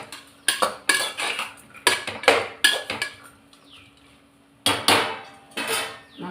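Carrots and green peas are stirred in a pot for one-pot coconut milk rice, with clattering metal spoon scrapes and knocks arriving in irregular bursts, close and fairly loud, with a quieter gap midway.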